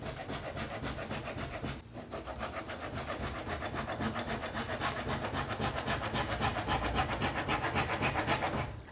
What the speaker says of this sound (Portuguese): serrando rente à régua.